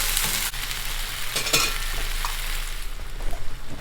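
A pot of tomato sauce with water bubbles and sizzles while a spoon stirs through it, with a soft scrape near the start and a steady simmering hiss throughout.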